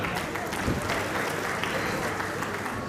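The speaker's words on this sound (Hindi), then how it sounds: "जोरदार तालियां।" Audience applause at a Rotary district governor installation ceremony, steady clapping from a crowd filling the whole stretch at moderate loudness, with a voice briefly audible over it.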